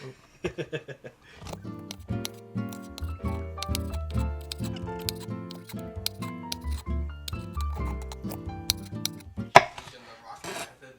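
A sharp kitchen knife slices food into strips for ropa vieja on a cutting board, giving a steady run of soft, rhythmic chopping taps near at hand, with a few louder knocks toward the end.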